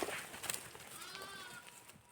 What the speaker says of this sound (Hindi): बकरियों के छोटे छोटे बच्चे जो अभी चिल्लाते चिल्लाते मम्मी मम्मी करके आवाज़ लगा रहे हैं